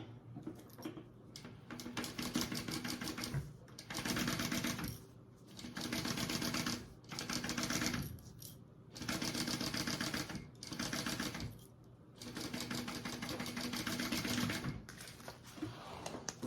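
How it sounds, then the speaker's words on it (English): Sewing machine stitching a seam on a fabric tote bag, fast rhythmic needle chatter in several bursts with short pauses between, close and steady. "I'm gonna do the same thing up here and sew that at a scant 1/4 of an inch."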